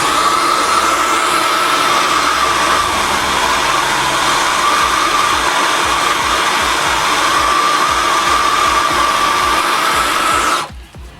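A heat gun heats a radiator overflow hose on a truck, blowing a loud, steady, close whoosh throughout and then cutting off abruptly at the end.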